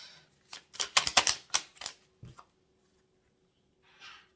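Tarot cards laid down one at a time in a quick run of crisp slaps and flicks, close to the mic, followed by a pause and a faint rustle.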